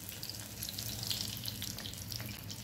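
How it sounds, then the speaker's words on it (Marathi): Water splashes into a hot tempering of mustard seeds, green chilli pieces and curry leaves for rice dhokla, setting off a steady, close hissing sizzle that holds evenly for the whole stretch with no voices. "याच्यामध्ये थोडंसं पाणी टाकते।"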